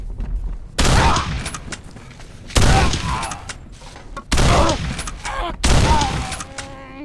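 Four heavy, booming shotgun blasts in the horror game Condemned: Criminal Origins, evenly spaced and loud, each with a trailing decay, and quieter room noise between them.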